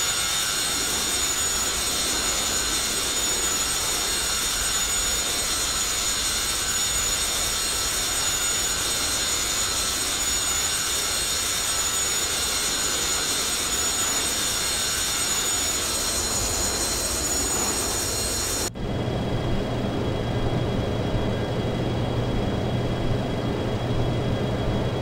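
Steady, dense engine drone from an aircraft in the X-Plane 10 flight simulator, a continuous broadband roar that holds for most of the clip, then shifts abruptly to a different, quieter tonal hum near the end.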